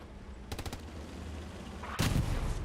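Gunfire in the World War II shooter Hell Let Loose: a quick cluster of sharp shots, then a louder, heavier blast about a second and a half later, against a steady game background.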